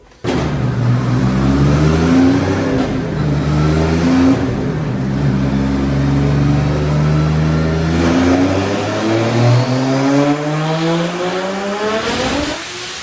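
A 1000 hp Nissan Silvia engine revs hard on a chassis dyno, the loud engine note climbing steadily in pitch for the full stretch, then cutting off abruptly near the end.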